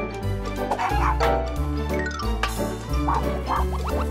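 A cartoon dog barks in a lively run of yips over busy music and sound effects, with clucking-like tones mixed in.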